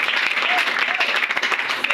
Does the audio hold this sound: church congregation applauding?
yes